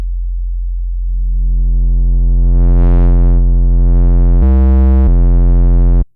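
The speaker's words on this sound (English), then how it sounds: "another thing you can do is you can have like a sub, add on distortion like this." A deep sub bass synth note holds steady, then gains distortion that adds a buzzing harmonic edge, with a brief louder distorted stretch near the end before it cuts off abruptly.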